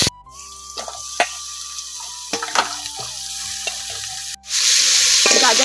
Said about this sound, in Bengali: গাজরগুলো এখন ভেজে নেব।